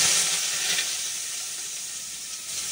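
Eggplant pieces frying in hot oil give off a steady, even sizzle and hiss that holds at one level throughout, close by, with no voices.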